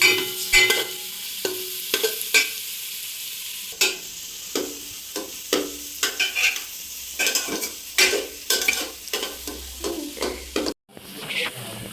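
Egg chowmein ingredients fried in a pan, with a close sizzle under a quick run of scraping, clacking stirs that come in uneven bursts, then a brief pause near the end.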